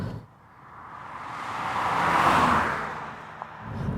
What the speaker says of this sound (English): It downshifts for you.